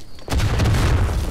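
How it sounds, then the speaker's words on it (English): Artillery barrage in the Verdun video game: a sudden deep boom followed by sustained low rumbling, loud and close, with no voices over it. "I'm calling a barrage in on the left."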